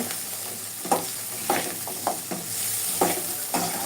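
Garlic pickle sizzles steadily in a frying pan while a spoon stirs it, giving several soft scraping strokes over the continuous hiss of hot oil.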